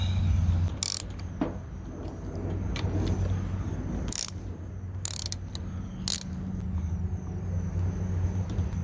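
A ratchet tightens small 9/32 bolts on an OBS GMT400 truck, giving a close, rapid clicking with several sharp metallic bursts over a low background rumble.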